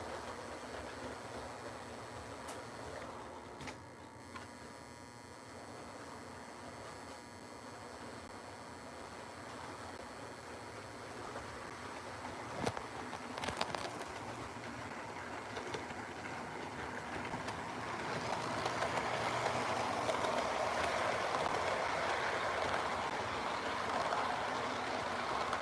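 Model stack train running on a layout, a faint continuous rolling rumble and hiss with occasional clicks, slowly growing louder and brighter toward the end.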